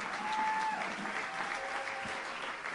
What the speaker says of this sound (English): a round of applause for Big Buddha Bobby